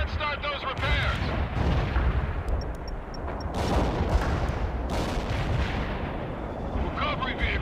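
Artillery barrage explosions in the video game World in Conflict, a continuous heavy rumble of overlapping blasts and booms, loud and sustained, with radio-style voices talking over the shelling.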